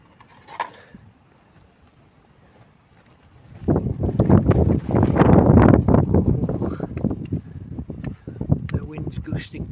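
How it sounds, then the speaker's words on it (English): Gusting wind blows outdoors at dawn in Torrevieja beside a camp stove, starting faint, then swelling into loud, buffeting rumbles against the microphone that rise and fall for several seconds. "The wind's gusting properly now."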